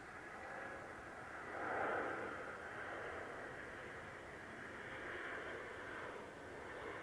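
A Eurowings airliner at Manchester Airport gives a steady, broad engine roar that swells briefly and then holds level, heard from outdoors at a moderate distance with no talk.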